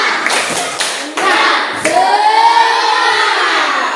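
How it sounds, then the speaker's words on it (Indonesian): Classroom of children gives a spirited round of clapping after a group presentation on food chains, with hand claps and brief cheering close by, then a rising voice-like tone over the applause. "Berikan tepuk semangat."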